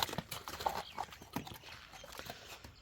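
A purebred Kyrgyz horse walks nearby, its hooves clip-clopping in an uneven series of soft, close thuds over quiet outdoor background.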